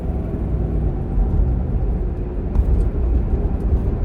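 Range Rover P38 with a 4.6L engine accelerating on the road, a steady low rumbling drone heard from inside the cabin, slightly swelling, with no talk.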